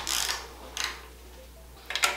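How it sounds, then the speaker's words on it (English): Ratchet clicks as a 289 Ford small-block crankshaft is turned by hand during valvetrain setup, three short bursts of rapid ticking, close and fairly quiet, with pauses between. "we're gonna go ahead and rotate the crankshaft 90 degrees"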